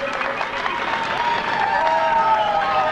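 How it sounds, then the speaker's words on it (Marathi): A large audience at the Maharashtra Kala Mahotsav 2003 arts festival applauds steadily. The dense clapping holds loud and unbroken, with faint tonal sounds underneath. "टाळ्यांचा पुन्हा एकदा यासाठी आपण गजर करूया।"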